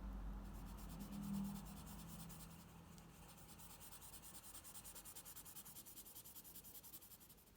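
A pen laying down ink on paper for a hand-drawn illustration, a steady close scratching and rubbing that runs throughout, with a slightly louder stretch near the start, then softer rhythmic strokes.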